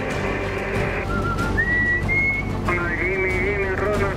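A fishing boat captain whistles loud sustained and sliding notes as a signal call to other boats, over steady engine and rough Pacific wave noise while out for giant squid off Peru.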